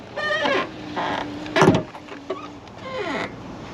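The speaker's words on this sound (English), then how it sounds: "Window back up." A 2002 Chevrolet Venture 3.4 power window motor whirs up in a few short bursts, close by, with clunks and squeaks between them inside the van.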